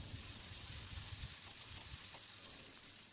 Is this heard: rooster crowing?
no